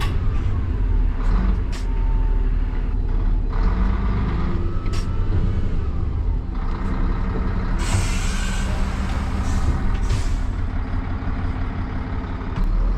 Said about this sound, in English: We're now going to do a hill start in the downward direction and reverse back up the hill a few meters.